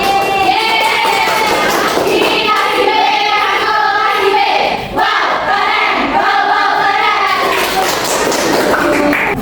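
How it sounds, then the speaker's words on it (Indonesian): Classroom of sixth-grade children clapping together for a group after a lesson, with loud, dense, continuous applause mixed with excited kids' voices and shouts throughout. "Tepuk tangan dulu untuk kelompok 1."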